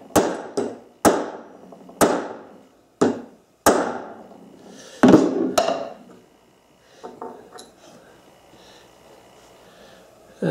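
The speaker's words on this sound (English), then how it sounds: "take a hammer and give her a good bang" A hammer strikes a bolt sitting over a hole in a big piece of wood: six sharp, evenly spaced bangs ring out, followed by a few softer taps and light handling clatter.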